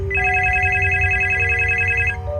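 A landline telephone rings in a kitchen, one loud, steady electronic ring that carries for about two seconds with a faint low hum underneath and no talking.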